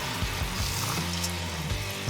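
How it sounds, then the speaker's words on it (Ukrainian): Clean water pours steadily into a cauldron of soaked rice for plov cooked over a campfire, a continuous close splashing and gurgling fill with no talk. "Зараз заливаємо його повністю водою, чистою водою."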